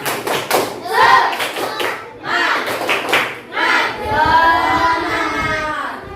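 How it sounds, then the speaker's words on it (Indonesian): A classroom of pupils performs a rhythmic spirit clap, several bursts of patterned hand claps in unison, mixed with children's voices and chanting close by. "Tepuk semangat."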